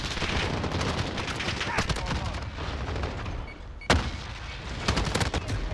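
Rapid AUG rifle fire in Modern Warfare, with dense bursts of shots and explosive booms over busy game noise, a sharp loud crack near four seconds, and voices talking throughout.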